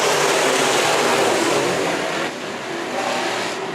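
A field of Bomber, Sport Compact and Modified race cars on a speedway roars loudly with engines climbing as they accelerate at the green flag, forming a dense, continuous blare that eases slightly midway.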